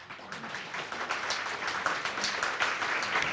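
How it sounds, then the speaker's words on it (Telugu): An audience at a Telugu-language Advaita Vedanta spiritual retreat lecture claps together in sustained, even applause, a dense wash of many hands heard from within the hall. "ఒక్కసారి చప్పట్లు కొట్టండి."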